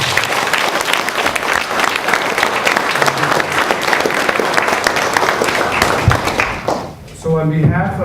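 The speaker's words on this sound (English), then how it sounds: "Let's give them a round of applause." Loud, sustained audience applause for a team at a business growth class event, continuing strongly for several seconds before dipping as a voice begins speaking at the end.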